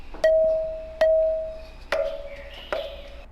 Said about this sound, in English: here's the sound of a temple bell